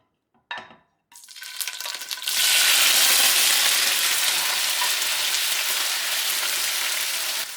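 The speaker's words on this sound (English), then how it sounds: "now you're gonna put the tofu in it, kind of browning them" Tofu pieces dropped into hot oil in a pan for browning, part of a beef and tofu stir fry: a brief clatter, then a loud, steady hiss of frying that swells and holds close up, with no talking.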